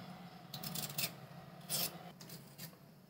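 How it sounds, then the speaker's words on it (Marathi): Potato skin being peeled with a peeler, a soft intermittent scraping and rasping in short strokes, close but faint over a low steady background hum. "बटाट्याचं साल काढून घेते आता।"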